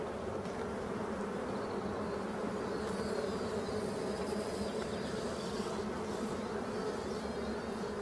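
Honeybees buzzing from an open hive during a spring inspection of brood frames, a steady close drone that stays even in loudness throughout, with no voices.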